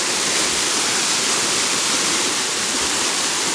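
Water pours down a forest waterfall in a continuous, loud rushing roar that fills the whole stretch from very near, with no talk over it.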